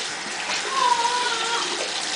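An aquarium filter sponge is rinsed under running lukewarm water, a steady moderate splashing hiss from the tap with brief faint tonal squeaks, no voices.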